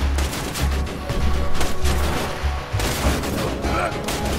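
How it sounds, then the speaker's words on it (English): A grenade blowing up in the shooter game Borderlands 2 amid rapid gunfire and bursts, loud and close, with rhythmic low thumps and a voice speaking over the din. "I threw a grenade at myself."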